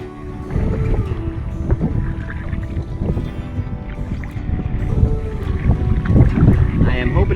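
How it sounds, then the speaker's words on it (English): Wind gusts across open water in the Louisiana swamps during a solo canoe trip, a steady buffeting rumble against the microphone mixed with low knocks and sloshing from the boat, continuous and fairly loud. "It looks like there'll be a little bit of a wind."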